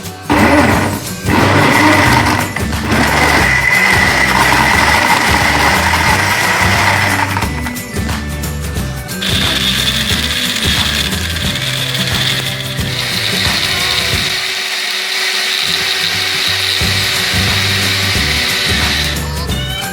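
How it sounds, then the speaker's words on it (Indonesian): Loud, continuous mechanical whirring and grinding of a blender mixing a banana and Milo iced drink, running for a long stretch, shifting in tone partway through. "Kemudian kita blender."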